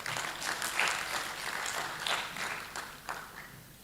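Faint applause from a school debate audience, a soft, distant patter of hand claps that fades over a few seconds.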